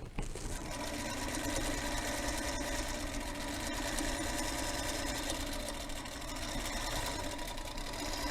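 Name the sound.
Singer Featherweight sewing machine stitching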